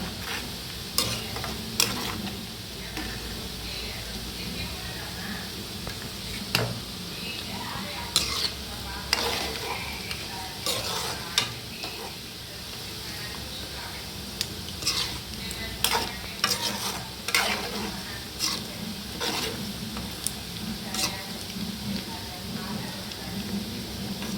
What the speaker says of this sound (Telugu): అందుకే ఇట్లా దోరగా వేస్తున్నానండి ముక్కలు